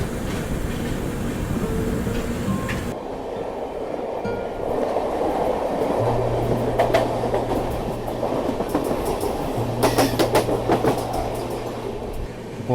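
Duronto Express (Mumbai–Hapa) pulling out of Mumbai at night, a steady close rumble of carriages on rails with rhythmic wheel clatter and a low sustained hum, continuous throughout with no talking.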